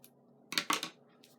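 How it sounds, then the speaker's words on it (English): The tip of a pair of scissors picks and peels away the top layer of paper on a handmade card, giving a few quick close scratchy rustles in a quiet room. "I'm going to use the tip of my scissors to remove that top layer."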